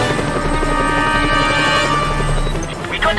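Helicopter in the video game Just Cause 2, a loud close rotor thump with a pulsing, even beat and a droning engine whine sustained throughout.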